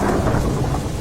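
Heavy rain pours in a continuous dense roar with a low rumble of thunder underneath, loud and enveloping with no voices.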